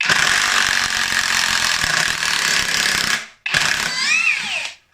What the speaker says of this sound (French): On va essayer de tout dévisser pour voir aussi.